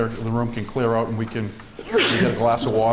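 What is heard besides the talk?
sneeze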